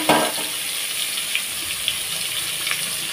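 Fresh koi fish fry in hot oil in a kadai, giving a steady, close hiss and sizzle with a few soft pops, and no voices.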